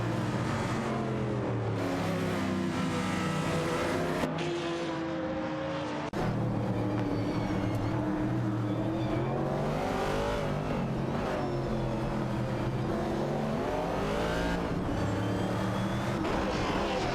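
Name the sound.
race cars accelerating in a racing video game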